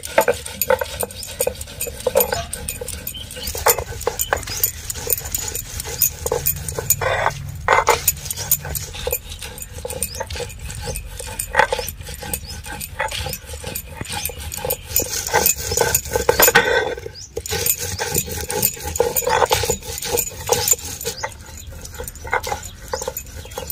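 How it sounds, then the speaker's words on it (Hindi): Green chillies and ginger being crushed with spices, repeated irregular grinding and pounding scrapes that are loud and close, continuing in uneven bursts throughout. "मसाले को पीसते हैं। तो फिर देखिए दोस्तों इस तरह से हम पहले कुचल लेते हैं।"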